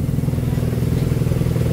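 A Raider 150 carburetor motorcycle engine idles nearby with a rapid, even mechanical chug and light ticking clatter, steady and close throughout.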